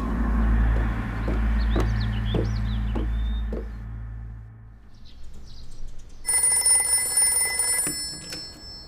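A telephone rings in a house in an indoor period scene, a bright, sustained electronic-sounding ring that starts late and persists after a stretch of low background music and soft tones.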